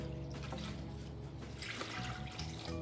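Steady running water pours and splashes continuously, like a stream from a tap or watering can, with no talking.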